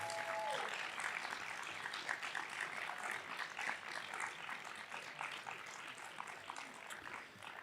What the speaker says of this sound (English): I imagine the class would welcome the opportunity right now to offer them a round of applause